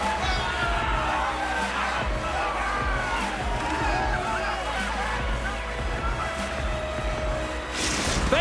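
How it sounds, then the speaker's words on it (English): A loud, steady arena crowd roars and cheers throughout the NHL 24 hockey video game, a dense wall of voices that swells slightly near the end. "The crowd is roaring, so much energy in the building."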